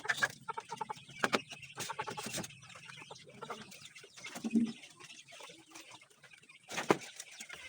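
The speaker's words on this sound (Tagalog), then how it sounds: "mga manok at pato." Pet chickens and ducks cluck and call in short, scattered bursts at moderate distance, with soft background noise between the calls.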